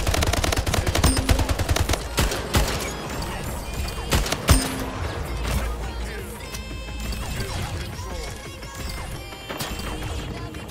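Gunfire crackles through a fast Splitgate match: dense bursts of automatic shots and sharp impacts, loudest early on, then thinning into scattered, slightly quieter volleys and mechanical clatter.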